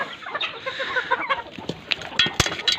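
Chickens cluck busily and close by, a flock of overlapping short calls with a few sharper squawks, no talking.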